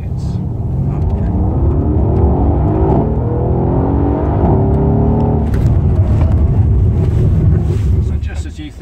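A Mercedes-Benz C63 AMG drives hot laps on an airport runway. Its loud engine rises and falls in pitch under heavy wind rush, while a voice talks over the drive.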